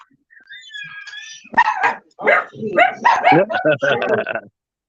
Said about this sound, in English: the dogs are carrying on